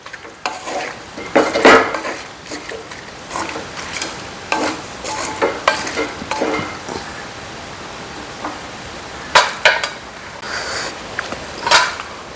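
Prawns frying in a pan while being stirred, with repeated sharp scrapes and clinks of a utensil against the pan over a steady low sizzle, close and fairly loud with no one talking.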